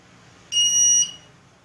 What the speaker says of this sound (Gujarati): બઝર વગાડશે